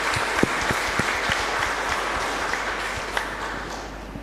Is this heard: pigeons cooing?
no